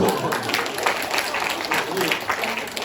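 Audience clapping at a Korean author's lecture on children's speaking and writing: a steady, moderately loud wash of many hands that carries evenly for the whole stretch with no break.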